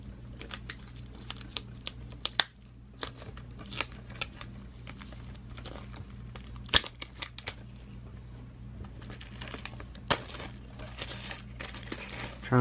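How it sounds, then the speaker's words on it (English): Plastic shrink wrap is peeled off a 4K Steelbook case, heard as close, intermittent crinkling and sharp crackles with short rips scattered over a quiet background. "let's go ahead and take off the shrink wrap here"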